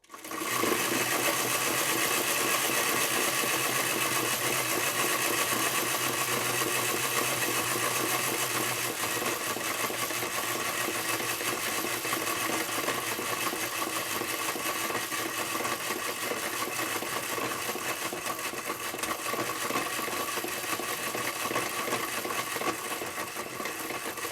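A small Bing clockwork toy train engine whirs steadily and continuously, with a dense ticking buzz at close range that holds at an even level throughout.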